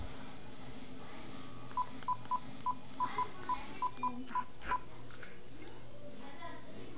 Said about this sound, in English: Hold on, it's ringing.